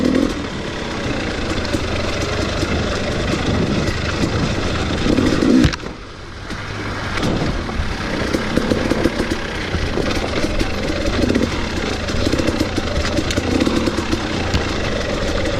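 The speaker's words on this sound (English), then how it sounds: "The idle sounds like it's just perfect right out of the box." A 2018 KTM 250 XC-W TPI two-stroke dirt bike engine idles steadily and loudly up close, a continuous buzzing putter with a brief dip midway before settling back to an even idle.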